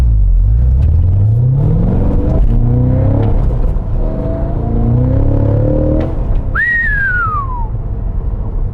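A Cadillac CT5-V Blackwing engine revs up through a gear, then blips sharply on a rev-matched downshift, a loud close rumble rising and falling with a high whine on top, no voices.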